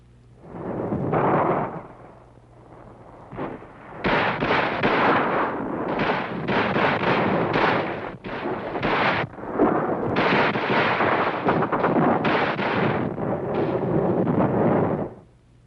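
Prototype M16 rifle firing in a long series of loud, sharp bursts and single shots, closely spaced with brief gaps and a constant low hum beneath.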